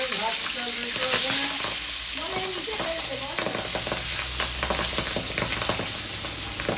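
Loud, dense sizzling and crackling of pabda fish frying in hot oil, with sharp spatters popping like firecrackers throughout and a steady hiss underneath.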